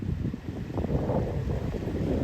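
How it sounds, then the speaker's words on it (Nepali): Wind blows outdoors at a picnic spot, a constant low rumbling buffet across the microphone with no voices. "ऊ यस्तो हावा चल्छ नि"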